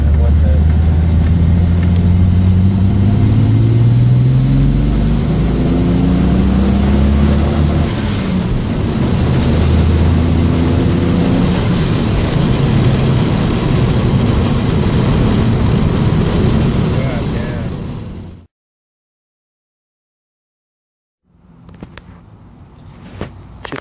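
The turbocharged L28ET engine of a 1970 Datsun 240Z pulls hard at 7 psi of boost, revving up through rising gear-like sweeps, loud and close, then the sound cuts out abruptly before faint noises return.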